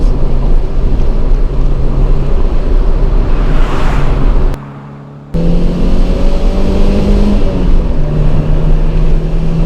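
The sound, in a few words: Peugeot 205 GTI engine revving toward red zone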